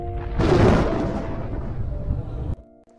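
A thunder sound effect: a sudden loud rumbling crack that rolls and fades over about two seconds, then cuts off abruptly, with faint tones around it.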